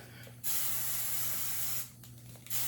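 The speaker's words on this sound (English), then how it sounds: "And then you're going to take the hairspray." Hairspray hisses from an aerosol can onto hair in a long, steady, close burst of about a second and a half, followed by a short second spray.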